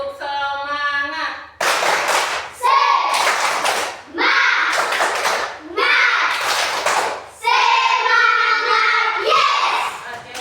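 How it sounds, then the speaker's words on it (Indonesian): Children perform a rhythmic spirit clap in a classroom, with quick patterned hand claps in several bursts, while chanting voices and an adult's voice blend in between and over them. "Tepuk semangat."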